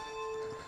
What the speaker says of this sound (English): I find it a bit funny when it's only just the one bell